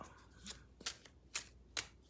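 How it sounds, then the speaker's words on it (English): Tarot cards are shuffled close up in four quick riffling bursts, each a crisp papery flutter separated by short quiet gaps. "one more shuffle."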